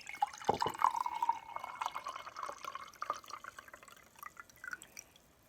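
Olive juice drips and trickles into a container in close, quiet detail, with a few bright plinks early on followed by a thinning stream of small drips.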